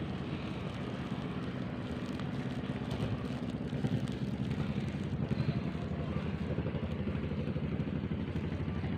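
A steady low engine drone from a fishing boat in Anambas, Riau Islands, continuous and fairly loud, with wind rumbling across the microphone throughout.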